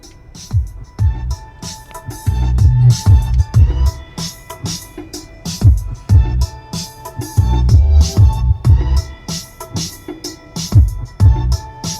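Music plays through the speakers inside a BYD M6 electric car, a loud rhythmic track with a punchy beat and melody, heard alone with no talk.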